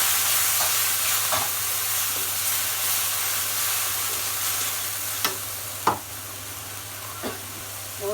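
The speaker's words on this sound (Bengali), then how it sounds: "এবার বেটে রাখা মশলাগুলো দিয়ে দেবো। এখানে জিরা, পেঁয়াজ আর কাঁচামরিচ বেটে নিয়েছি।" A ground paste of cumin, onion and green chili fries with browned onions in a hot pan, a steady loud sizzle broken by several sharp scraping clicks of stirring.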